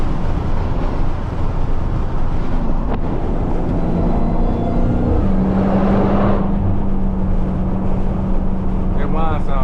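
A Dodge Hellcat's supercharger whine rises over a loud, steady engine and road roar on a night drive, heard from inside the car, with a voice talking over it.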